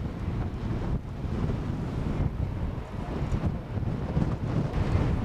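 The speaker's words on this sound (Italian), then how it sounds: "Mi senti o c'è troppo vento?" Strong wind buffets a microphone on Bondi Beach, a continuous loud low roar with gusty swells and no clear talking.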